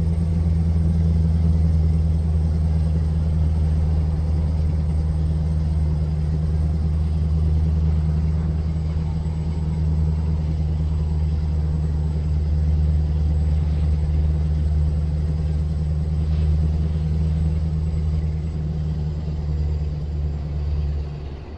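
Scania V8 truck engine in Euro Truck Simulator 2 (ProMods winter mod), a deep steady low rumble with a strong bass drone held loud and constant throughout, with no talk.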